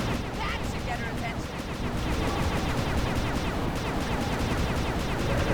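Rocket fire in Sly 2: Band of Thieves, a dense stream of booming shots and blasts running steadily through the clip over continuous game noise.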